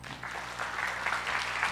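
An audience at a SketchUp construction case-study talk applauds after the presentation, a steady wash of clapping held at moderate level for the short clip, with no voices over it.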